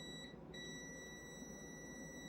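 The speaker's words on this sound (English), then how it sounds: "You're supposed to hear beep." Steady high-pitched continuity beep from a multimeter with its leads touched across a capacitor or contactor terminal, holding as one continuous tone with a brief dropout early on, fairly faint and alone.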